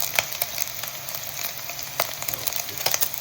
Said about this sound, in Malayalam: ചട്ടി ഏകദേശം ചൂടായിക്കൊണ്ടിരിക്കുകയാണ്. അപ്പോൾ എണ്ണയും കൂടെ ഇട്ട് കൊടുക്കാം.